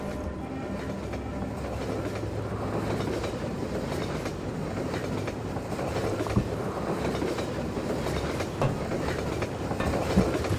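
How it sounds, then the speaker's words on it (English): A train in the video game Half-Life 2 rushes past with a loud, continuous rumble and rhythmic clickety-clack of wheels over rails, with occasional clanks and faint wheel squeal. "Incoming train."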